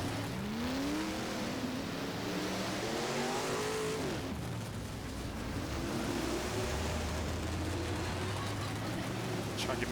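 Big Block Modified dirt cars idle around a simulated dirt oval on a slow pace lap in rFactor, engines droning and rising and falling steadily in a dense, continuous pack.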